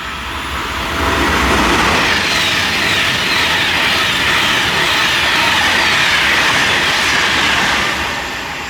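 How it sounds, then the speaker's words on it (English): A fast train rushes past on the rails, a loud, sustained roar that swells within a second, holds for several seconds, then eases off slightly at the end, with no voices. "Fast train."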